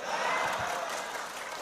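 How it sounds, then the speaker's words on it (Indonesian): A crowd at an LDII event in Indramayu, Indonesia, claps harder, giving a sustained, dense burst of applause with some cheering, steady and fairly full throughout. "Tepuk tangannya keras lagi."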